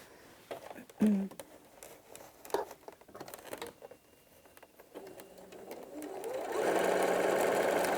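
A sewing machine stitches the corners of a hessian bag, starting after a few soft fabric rustles and clicks, then building into a steady whirring run for the last seconds.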